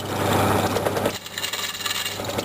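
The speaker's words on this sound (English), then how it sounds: "we're putting a 4mm drill through the bolt" A 4mm drill bores through a stainless steel bolt, a steady grinding rasp that shifts to a rougher, more broken scrape partway through, close and fairly loud with no voices.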